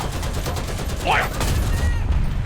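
Rapid gunfire bursts in a video game, a dense continuous volley of shots running through the whole stretch with a brief whistling sweep in the middle, loud and busy alongside other game noise.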